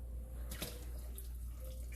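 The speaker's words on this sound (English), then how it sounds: "So you put a little water." Cold water poured from a tap into a pot of boiling dumplings, a faint pouring splash with a brief sharper gush in the middle over a low steady background hum.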